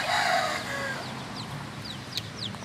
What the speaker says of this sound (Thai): ลูกไก่ชนครับผม